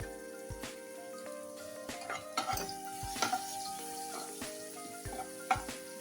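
Coarsely chopped onion and garlic sizzling in hot oil in a pan as a spoon stirs and clinks against the metal, a soft, steady fry broken by sharper scraping knocks.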